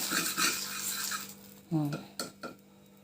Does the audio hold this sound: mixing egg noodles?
yes